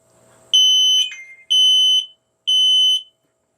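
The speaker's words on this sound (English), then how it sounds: "So let's go to the smoke alarm device test." An X-Sense FS51 smart smoke alarm runs its device test. After a faint lead-in it gives three loud, piercing electronic beeps, each about half a second long and evenly spaced, with silence between them.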